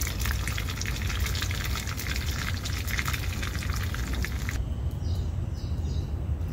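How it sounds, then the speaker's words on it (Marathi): Mustard seeds spluttering in hot oil in a small tempering pan for coconut chutney, a busy crackling sizzle that eases partway through while a faint wash of hiss continues. "मोहरी पण घालून घेते मी फोडणीच्या भांड्यात"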